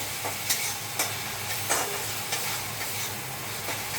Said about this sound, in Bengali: ততক্ষণ এটাকে ওইদিকে ভাজি